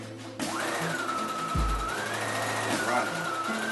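A sewing machine stitching green screen fabric hums steadily and close, its motor pitch rising and falling as it runs, with a brief low thump partway through.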